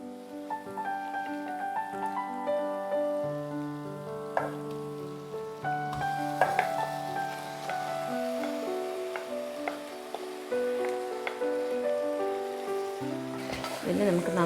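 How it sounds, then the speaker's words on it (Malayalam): Marinated mutton for biryani sizzles and is stirred on high flame, with a soft frying hiss and occasional spoon clinks under prominent background music. "ഈ ടൈമിൽ ഫ്ലെയിം ഹൈയിൽ വെച്ചിട്ട് നല്ലോണം ഇങ്ങനെ ഇളക്കി അതൊന്ന് ഫ്രൈ മോഡിലോട്ട് ഇങ്ങനെ ആക്കിയെടുക്കാം"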